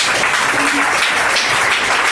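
A church congregation applauds during a service, a dense, steady wash of clapping filling the room with a low voice murmuring underneath.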